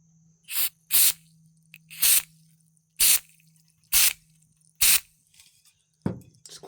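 A spray can of quick-drying product gives six short, sharp hissing bursts at irregular intervals in a garage while a 1JZ-swapped E36 drift car is being reassembled.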